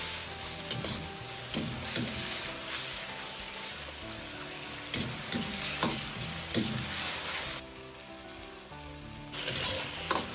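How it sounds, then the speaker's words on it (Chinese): A spoon scrapes and clinks against a wok while oyster mushrooms and chopped green and red peppers are stir-fried, with steady sizzling and repeated metallic strikes at an irregular rhythm, close and fairly loud, with no talking. "再放入切好的青红椒块，继续用勺子翻炒"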